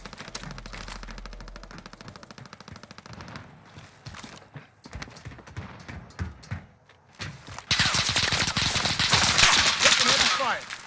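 Heavy automatic gunfire in Call of Duty Warzone, with fast, loud bursts of rapid shots followed by a denser, roaring stretch of fire near the end, and some game voice chatter mixed in.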